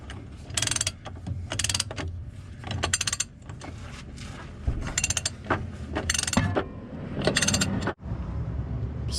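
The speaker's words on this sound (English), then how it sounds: "Now I've got a massive ratchet here" A large ratchet clicks in repeated bursts, tightening the transmission output nut on a ZF5 gearbox in an OBS Ford Powerstroke F-350 truck, close by with metallic pawl clicks and short pauses.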